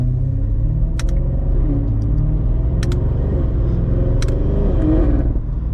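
Straight-piped BMW F90 M5 exhaust cruising on the road, a steady deep rumbling drone with low harmonics that rise and fall gently with throttle, close and loud throughout with no talking.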